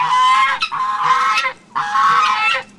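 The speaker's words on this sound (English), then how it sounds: "I do have a turkey in here." Two loud, nasal turkey gobbles honk out close by, each a drawn-out bursting cry separated by a short pause, on a farm.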